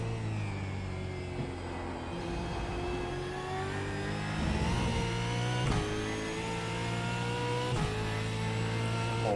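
A new-generation Australian Supercar races around Brands Hatch in iRacing, its engine roaring loud and steady with rising and falling revs and sharp gear-shift breaks through the laps.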